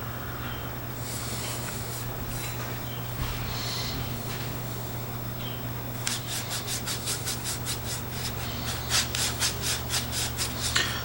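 An antique American steam whistle, an 1800s–1900s three-inch single chime, scrubbed by hand with a Scotch-Brite pad: soft rubbing at first, then a quick run of rhythmic rasping strokes growing louder toward the end, close up over a low steady hum.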